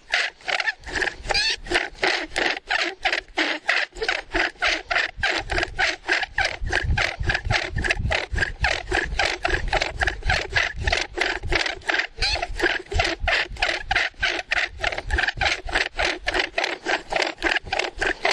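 A wooden friction fire drill works against a wooden board, grinding out dust in a fast, steady rhythm of back-and-forth rubbing strokes, close and continuous for about eighteen seconds with no speech.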